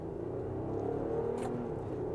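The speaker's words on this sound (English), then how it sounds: "we can flick it into sport mode real quick and push on the gas" A 2023 Infiniti QX60 with a naturally aspirated V6 accelerates in sport mode, a steady, moderately loud engine drone and rumble from inside the cabin that builds slightly without a break.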